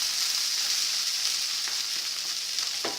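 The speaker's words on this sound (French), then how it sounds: "mes petites pommes de terre ont commencé un peu à roussir" New potatoes fry in a pan with crème fraîche, a steady bright sizzle and crackle throughout with a few sharper pops, close and continuous with no voices.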